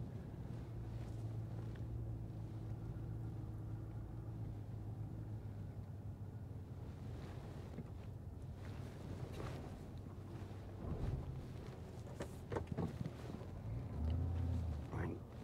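A car drives slowly through busy city streets while hunting for a parking spot, giving a steady low engine and road rumble with some wind noise and a few faint bumps toward the end.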